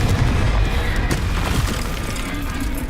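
A Confringo blasting spell explodes in Hogwarts Legacy, a dense, loud booming blast with crackling, splintering debris that rumbles on continuously for several seconds.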